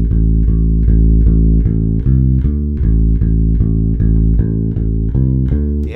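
Electric bass plays a two-bar blues riff in A, a loud, close, deep pattern of repeated plucked notes with a steady shuffling pulse and no voices.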